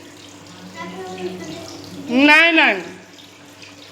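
Water running from a household tap, a soft steady stream heard behind a voice, which gives a louder burst of speech midway.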